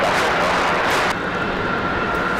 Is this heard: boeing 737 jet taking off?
yes